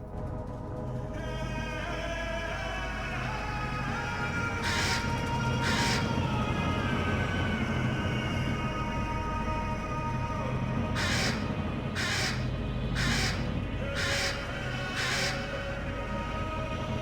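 Crows caw in an Aztec jungle setting in the video game Atlantis 2, a pair of harsh calls followed later by a run of five quick caws over a steady, dense ambient bed.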